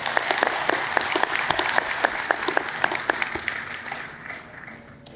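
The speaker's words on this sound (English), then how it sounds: "So now we can applaud." An audience at a 2020 university convocation in Uganda applauds steadily, with crisp individual claps standing out over a full wash of clapping that thins and fades near the end.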